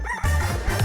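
A voice imitates a rooster's crow, a single loud, drawn-out call that rises and holds, close and clear.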